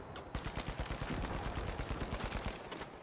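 Sustained automatic fire from an FCAR rifle in The Finals, a fast steady stream of shots in rapid even rhythm for about three seconds, fairly faint and distant-sounding, with no talk over it.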